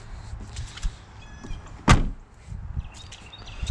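Door of a 2008 Ford Crown Victoria Police Interceptor opening: one sharp, fairly close latch clunk midway through, surrounded by quieter rustling and faint mechanical clicks.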